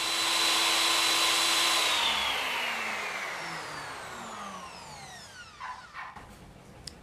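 A Ronix 10-inch sliding miter saw motor runs free without load, a loud high whine that spins down after a couple of seconds, its pitch falling steadily as the blade coasts to a stop with a few faint clicks.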